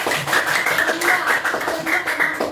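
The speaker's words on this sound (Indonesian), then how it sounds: "wih, tepuk tangan dulu dong." Classroom group at an Indonesian school guidance session clapping for a student, a loose, uneven patter of hand claps from a small crowd, fairly close and lively.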